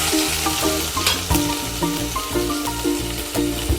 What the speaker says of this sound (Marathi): लसूण टाकते, त्याला फिरून घेते, थोडंसं